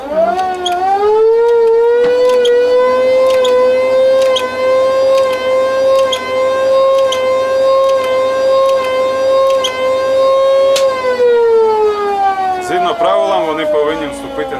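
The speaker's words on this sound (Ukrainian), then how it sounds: "ми дамо їм сирену" A river passenger motor ship sounds its siren in one loud, sustained wail lasting about eleven seconds before the pitch slides down and fades.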